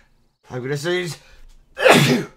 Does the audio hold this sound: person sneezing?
yes